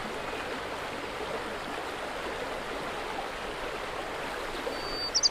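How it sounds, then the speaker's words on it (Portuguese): A mountain stream flows past a gallery of riverside trees, a steady broadband rush of water running continuously at moderate level with no voices, a couple of faint brief chirps near the end. "os cursos de água banham uma galeria de árvores ripícolas"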